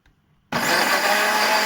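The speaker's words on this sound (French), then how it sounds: "ce que je vais faire maintenant, c'est de mixer le poivron, le piment et la tomate" Blender kicking on abruptly after a quiet moment and whirring loudly and steadily as it purées bell pepper, chili and tomato for an oxtail dish.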